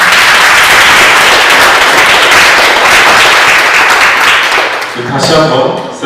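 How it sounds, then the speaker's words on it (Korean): A seminar audience applauds loudly and continuously, a dense wash of clapping that tapers near the end as a voice begins over it. "큰 박수를 부탁드립니다"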